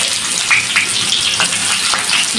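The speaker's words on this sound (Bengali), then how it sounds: "পেঁয়াজ দিয়ে একটু হালকা করে ভেজে নেব" Onions fry in hot oil with dried chili and bay leaf, giving a loud, dense hiss with bubbling bursts throughout the short stretch, close by and without talk.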